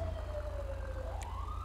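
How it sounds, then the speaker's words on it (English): A police car siren in a video game wails steadily with a slowly falling then rising tone, heard over constant engine rumble, with no talk. "Blip your siren."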